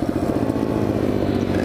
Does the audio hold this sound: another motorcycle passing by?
yes